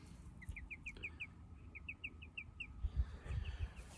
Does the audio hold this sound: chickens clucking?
yes